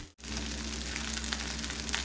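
Rice sizzles steadily as it is stir-fried with dark soy sauce in a hot pan until it dries out, a constant close frying hiss after a brief gap, with no talking.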